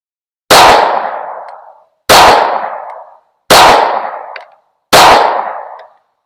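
Four loud pistol gunshots, evenly spaced about a second and a half apart, each a sharp crack with a long echoing decay, fired while sighting in a red dot sight at a range.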